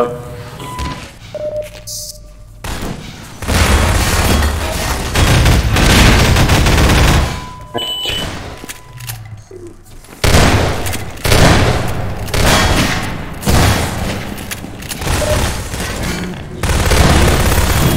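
Grenade explosions and bursts of gunfire in a Half-Life 2 Deathmatch match, loud and dense, with heavy booms and rapid shots coming in waves with brief lulls between them.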